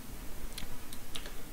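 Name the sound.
typing on a computer keyboard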